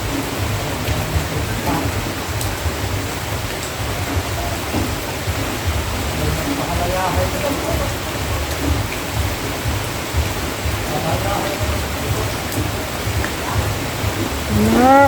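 Heavy rain from a storm falls steadily in a rural province setting, a dense continuous hiss with low rumble throughout, and a brief chirping sound near the end.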